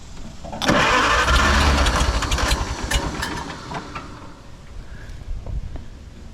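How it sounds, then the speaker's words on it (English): A 1946 Farmall tractor engine cranks briefly, then catches and roars to life, settling into a rougher running idle nearby. "I'll turn the engine over a couple times and see if that helps it out."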